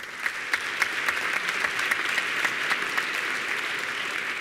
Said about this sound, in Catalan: Un aplaudiment, home.